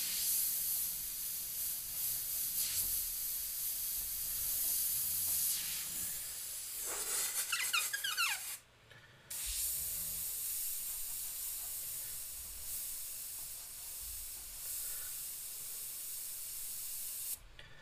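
An airbrush sprays stain onto a skull in steady soft hissing bursts, with a brief stop and a sharp squeaky sound partway through, then continuous spraying.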